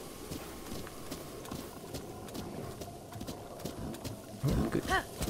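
Rhythmic hoofbeats of a galloping horse in Zelda: Breath of the Wild, a quick steady clip-clop with a louder thump near the end.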